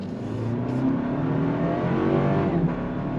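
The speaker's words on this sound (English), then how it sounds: "Nobody's behind us, so that's good. We're gonna go on throttle." 2024 Toyota Land Cruiser 1958 accelerating from a stop under throttle, its engine droning steadily and rising in pitch through the 8-speed automatic, heard from inside the cabin with a constant road hum.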